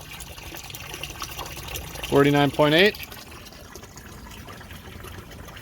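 Water from a house supply runs steadily into a cold plunge tub, a constant rushing hiss that continues throughout while a voice briefly speaks over it.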